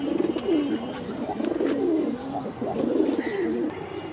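Bengali high-flying pigeons of several breeds, among them silver, beji and hemar, coo in repeated low rolling phrases at a market. The calls are close and clear and overlap, with no voices.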